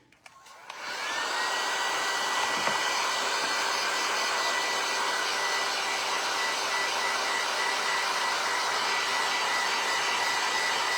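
A hair dryer blows steadily at close range, drying decoupage glued onto a wooden angel Christmas tree craft; a loud constant whooshing hum switches on and runs unbroken, with no talking over it.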